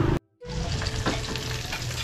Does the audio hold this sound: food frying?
yes